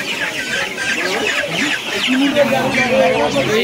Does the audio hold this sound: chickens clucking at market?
yes